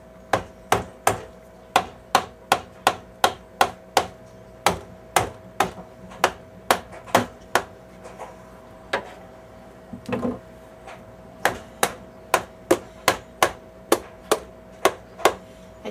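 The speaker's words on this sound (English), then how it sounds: "I do have the end of this tack hammer though, that's rubber." The rubber end of a tack hammer taps repeatedly on a spaghetti squash, sharp regular knocks in quick runs with a brief pause midway, close and loud, with no talk.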